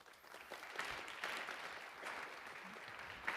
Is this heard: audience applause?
yes